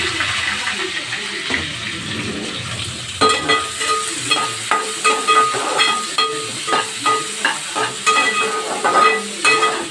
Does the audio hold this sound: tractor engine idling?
no